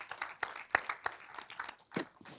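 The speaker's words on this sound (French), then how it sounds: "on peut l'applaudir encore une fois" A small audience inside Le Caroussel cinema in Verdun gives faint, scattered applause: a sparse run of individual claps from a few people, uneven in rhythm and fairly distant.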